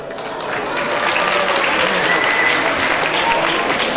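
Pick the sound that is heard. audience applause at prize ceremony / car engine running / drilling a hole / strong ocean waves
audience applause at prize ceremony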